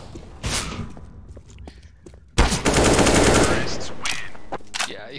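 Gunfire in CS:GO on the Cache map, a few sharp shots early, then a loud sustained burst of automatic fire with footsteps, close and dense, with voices talking over parts of it.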